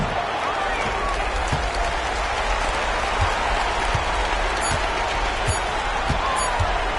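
Steady home-crowd applause and cheering fill an NBA 2K26 basketball arena after a win, a continuous dense roar with occasional ball bounces and a commentator talking over it.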